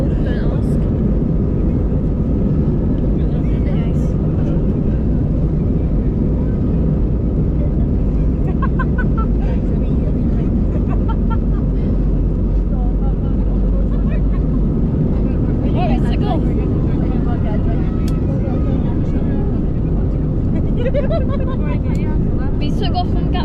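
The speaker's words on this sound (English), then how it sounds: "We took off from Gatwick Airport." An easyJet airliner takes off from London Gatwick, heard from inside the cabin as a loud, steady, broadband engine roar that fills the whole stretch, with faint voices underneath.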